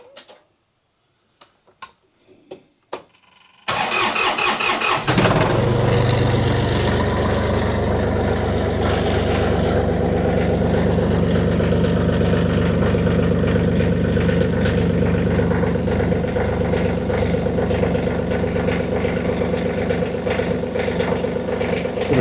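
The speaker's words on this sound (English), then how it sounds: "Leave the cap off and fire her up." John Deere 2520 tractor with its radiator cap off: after a few faint clicks and knocks, the engine cranks, fires and settles into a loud, steady, close-up idle that runs to the end.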